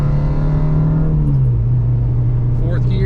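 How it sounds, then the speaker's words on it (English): An Acura RSX Type-S accelerating to cruising speed during a brake comparison drive, its engine drone loud and steady from inside the car, the pitch holding and then easing slightly lower as it settles. "Accelerating to my cruising speed,"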